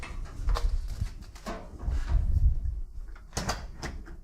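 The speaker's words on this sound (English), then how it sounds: "I might need to be shutting these doors quickly." Several doors are handled and shut in a garage during a turbo Miata build, giving a series of sharp knocks and scraping bumps spread unevenly among rustling movement.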